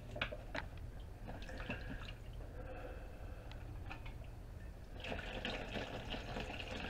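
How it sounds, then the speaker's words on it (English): Hot water splashing and trickling into a basin while preparing for a face shave, a steady close pour that swells louder toward the end, with some faint background noise. "Some more hot water to the bin"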